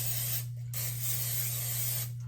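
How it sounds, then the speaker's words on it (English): Cooking spray hisses onto non-stick donut ring molds in two close bursts, one long and one shorter, over a low steady hum. "I'm going to spray the molds because I want a nice clean pull away"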